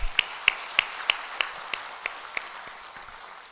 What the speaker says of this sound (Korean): 우리 이 모든 것을 허락하신 하나님께 감사하며 또 서로에게 감사하며 우리 박수합시다